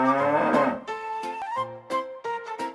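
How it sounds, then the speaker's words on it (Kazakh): A cow moos in a cartoon for children about farm animals, several drawn-out lowing calls in a row, clear and close with no talking. "Бұл сиыр. Мы деп кім дыбыс берді"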